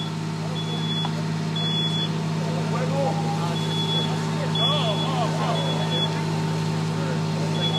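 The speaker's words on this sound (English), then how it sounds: "the smoke detector in the room has activated" A smoke detector sounds in a room of a campus building during a fire training burn, giving short high electronic beeps at irregular intervals over a steady low hum and background rumble.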